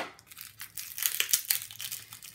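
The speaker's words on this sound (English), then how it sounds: "I'm going to open this up as well. Sorry for the crinkling." Plastic packaging around a roll of washi tape crinkles and crackles as it is opened, a quiet, close, irregular run of sharp rustles that grows busier midway, with no voices.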